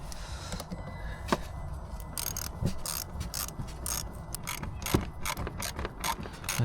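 A Jubilee hose clip being tightened on the air intake of a 2016 Ford Transit Connect, a run of quiet rapid ratcheting clicks and metallic ticks up close, no voices.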